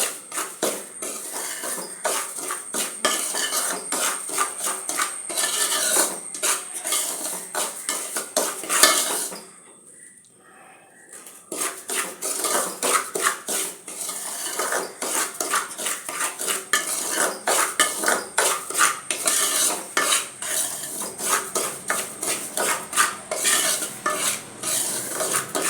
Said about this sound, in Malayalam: അതുവരെ നമുക്കിത് വറുത്തെടുക്കാം.